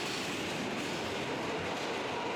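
Steady loud rumble and roar of a New York subway train running through the underground, a dense continuous noise with no pauses and no voices.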